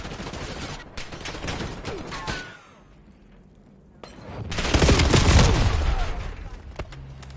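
Video game pistol fired rapidly like a machine gun, dense bursts of gunfire that pause briefly, then a loud, boomy volley, with game sounds and no talk.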